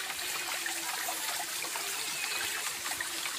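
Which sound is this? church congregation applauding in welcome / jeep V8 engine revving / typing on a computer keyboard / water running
water running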